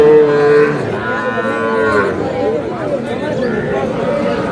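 Bull calves at a cattle market near Dhaka bellow loudly and repeatedly close by, with lowing calls overlapping steady crowd chatter and people talking in the background.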